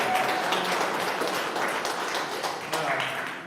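Church congregation clapping at a Sunday service, a steady wash of applause from many hands filling the room throughout, with some voices underneath.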